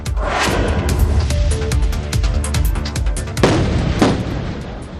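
Giant boulders fallen across the Jammu–Srinagar national highway after a landslide are blasted apart with explosives, a rapid series of sharp, loud cracks and booms with rumbling debris, a heavier blast standing out midway through.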